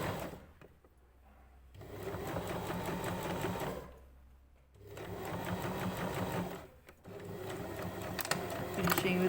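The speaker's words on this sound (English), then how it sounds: "Then we're going to stitch that in place, keeping it nice and tight." A sewing machine stitches a puff sleeve in place with rapid, even mechanical chatter in three runs separated by short pauses, close-up and steady.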